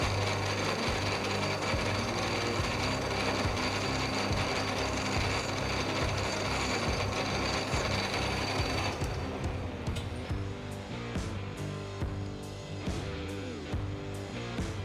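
A hand file grinds and rasps against a classic Mini wheel nut spinning on a metal lathe. The scraping is loud and continuous under the machine's hum, with rhythmic strokes growing more distinct toward the end.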